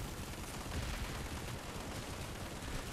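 Dense gunfire in a Planetside 2 battle, a thick, continuous wash of overlapping rapid shots and bursts that fills the whole stretch loudly, with no clear gaps and no talking.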